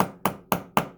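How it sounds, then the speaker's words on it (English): A small ball peen chasing hammer striking a rivet while fixing metal sheet to leather: four sharp, evenly spaced metallic taps in quick succession, close and crisp. "I'm going to take the ball peen on my little chasing hammer here, and I'm going to start to hammer"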